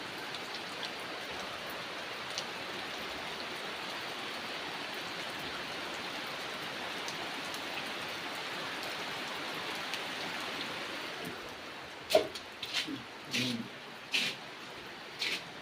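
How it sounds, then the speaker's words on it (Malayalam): Heavy rain pours in a dense, even wash for about twelve seconds, then thins out, leaving a few sharp nearby knocks and thuds. "എന്തോ മഴ."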